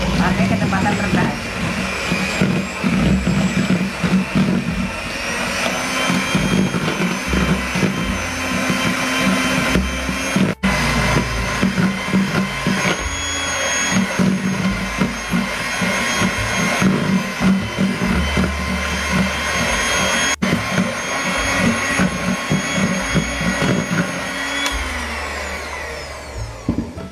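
An electric mixer runs at low speed, blending powdered sugar for nastar pineapple cookie dough. It gives a loud, steady motor whir and drone that holds unbroken from start to finish.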